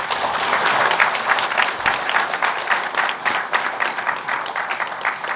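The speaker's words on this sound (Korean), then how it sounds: "정세균 후보 박수로 맞아주시기 바랍니다" Sustained audience applause at a Kwanhun Club televised debate welcoming a Democratic United Party presidential candidate, a dense, steady wash of many hands clapping that stays loud throughout.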